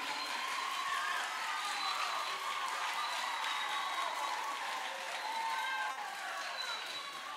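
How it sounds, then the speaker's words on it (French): An audience at a gospel singing contest keeps applauding a singer, a fairly faint, continuous wash of clapping and crowd noise with some voices mixed in. "Continuez à applaudir l'artiste"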